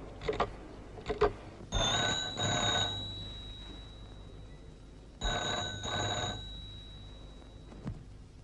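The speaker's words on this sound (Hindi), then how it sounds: "सरकार, आपका फोन।" An old telephone bell in a 1950 Hindi film rings in two long trilling bursts separated by a pause, preceded by a few short clicks, fairly clear with no talk over it.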